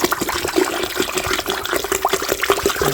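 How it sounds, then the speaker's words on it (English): Gatorade pours into a colonoscopy prep mix, a steady close liquid trickle and splash running alone for about three seconds with small bubbling accents. "And then I'll pour in my Gatorade and mix it up."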